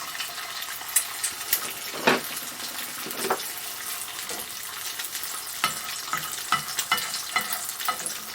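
Plain guinea fowl eggs fry in a pan with a steady crackling sizzle, sprinkled with sharper pops and spits that stand out at irregular moments, with no voices over it.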